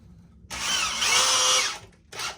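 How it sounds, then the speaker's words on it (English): A power drill drives screws into 2x4 lumber while building a target stand: a close, loud whirring burst of about a second and a half that bogs slightly as the screw seats, then a brief second spin. "you're going to screw down 2 screws in each 2x4"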